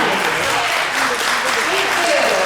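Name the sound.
applause for the winners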